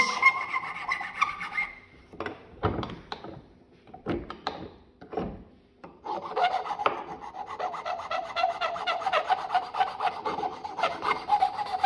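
Rasping file strokes smooth and deburr the edge of an HDPE plastic keyring, starting as separate scraping passes and then becoming a continuous, close rubbing rasp.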